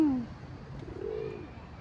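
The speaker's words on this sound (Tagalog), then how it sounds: "Hinahawakan niya ibon." Pigeons cooing in a London park, a close soft coo followed by a second rising and falling call over faint outdoor background.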